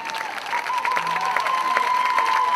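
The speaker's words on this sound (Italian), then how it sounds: "Un bel applauso per loro" Steady applause and crowd noise fill the whole stretch, continuous and fairly loud, with a sustained tone running underneath.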